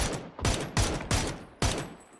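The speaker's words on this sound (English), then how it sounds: "we can hear the gunshots" Gunfire in the battle royale game PUBG during a tournament match: five heavy, booming shots ring out at roughly even intervals, each one loud and close with a ringing tail.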